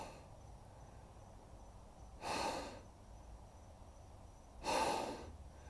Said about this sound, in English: You can do a few clenching exhales